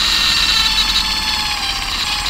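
A small electric two-piston engine running steadily, a continuous loud mechanical whir and buzz with a bright high whine, close up and with no talking.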